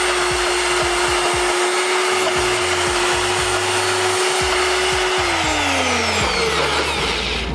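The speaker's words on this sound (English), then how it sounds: "So I would just do it in a blender." A kitchen blender runs on a live morning TV show set: a loud, steady motor whir at constant pitch that sags lower as the motor winds down near the end. No one speaks.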